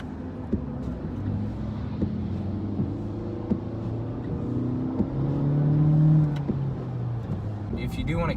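A 2018 Honda Civic Hatchback engine hums steadily while downshifting with paddle shifters, with a brief rising rev blip midway, and a person talks over the engine throughout.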